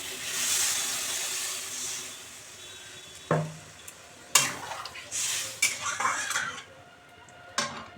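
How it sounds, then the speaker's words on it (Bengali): Water pours into a hot pan of frying spice paste for a Bengali fish curry with broccoli and katla fish, giving a sharp hissing sizzle that swells, then settles into softer bubbling with a few utensil clinks. "এবার জল ঢেলে দেব।"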